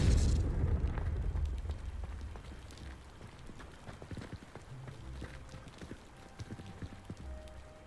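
A blasting fire spell explosion in the wizarding game Hogwarts Legacy, a sharp boom at the start followed by a fading rumble and scattered crackling debris, fairly quiet overall.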